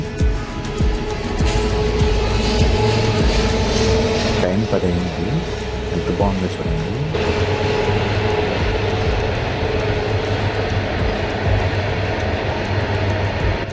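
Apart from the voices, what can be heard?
train passing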